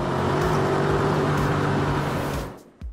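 Steady loud roar of the Audi-sourced twin-turbo V8 in a Gumpert Apollo Speed at high speed, a continuous engine drone that fades over the last half second.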